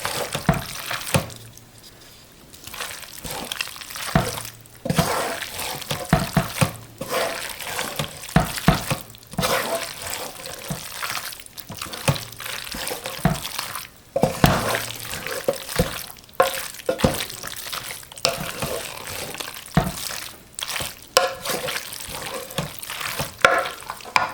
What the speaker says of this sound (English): Keep mixing and mixing and mixing.